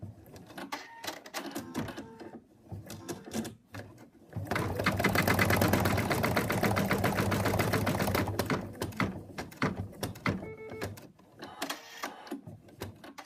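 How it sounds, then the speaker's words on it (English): An embroidery machine stitches a small highlight on the nose of a cat design with a fast, loud mechanical needle rattle in a sustained burst through the middle, framed by quieter, intermittent clicking stitches before and after. "it's just going to do a little highlight on the nose now"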